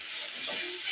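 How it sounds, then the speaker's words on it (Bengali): Sliced potatoes for aloo bhaji sizzle steadily in a hot pan in a village kitchen, a continuous close frying hiss with faint stirring. "তো এখানে আজকে আলু ভাজি করতেছি"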